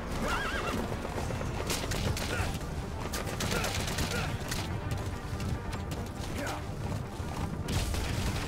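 A horse in the video game Metal Gear Solid V whinnies loudly and gallops with rapid clip-clop hoofbeats, under dense in-game noise and bursts of gunfire throughout.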